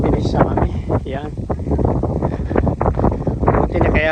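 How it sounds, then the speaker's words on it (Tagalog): Strong wind roars across a mountain top near Tinago Falls in Inalahan, Guam, buffeting the microphone in a steady, loud rush, with people talking over it throughout. "Isang rason ba't mahangin, nasa taas kami ng bundok."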